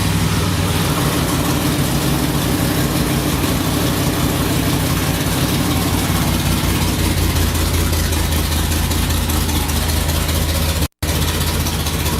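A car engine idles loudly and steadily at about 1200 RPM on a dyno at close range, a continuous low mechanical drone with a brief dropout near the end.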